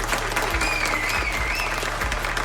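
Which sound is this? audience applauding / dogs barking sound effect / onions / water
audience applauding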